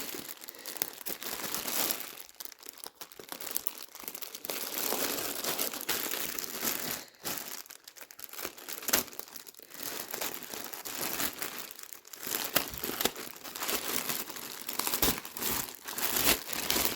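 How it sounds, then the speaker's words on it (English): Continuous crinkling and rustling of plastic being handled up close, crackly and uneven, with no talking. "Obviously had a really big plastic bag."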